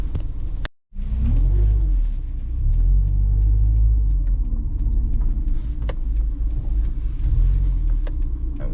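A car cruises along a road behind a truck, its steady low engine rumble and tyre roar continuous and close, with one brief dropout early and faint clicks over the drone.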